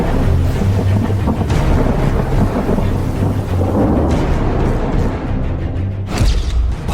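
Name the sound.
heavy monsoon rain and thunder in Thane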